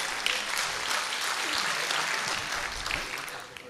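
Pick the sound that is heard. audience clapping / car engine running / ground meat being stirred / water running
audience clapping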